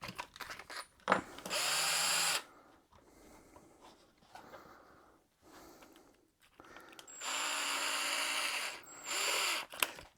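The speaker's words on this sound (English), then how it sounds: "I'll just drill these up, try my best to get it in the center." A power drill bores holes in an enclosure for a battery-powered LoRa APRS iGate in two loud, sustained whining bursts at the start and end, separated by quieter handling and clicking sounds.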